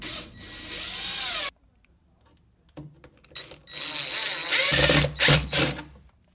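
Power drill driving a screw into a furniture panel during flat-pack assembly: a close, loud whirring burst, a pause with small clicks and handling noises, then further drill runs in short spurts.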